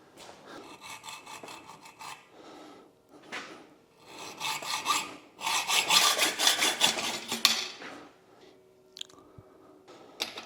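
Hacksaw strokes cutting through steel conduit, a close run of rasping back-and-forth bursts that start fitfully, then build into loud steady sawing before tapering off into a few light knocks.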